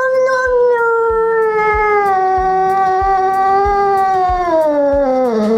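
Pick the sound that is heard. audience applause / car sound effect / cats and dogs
cats and dogs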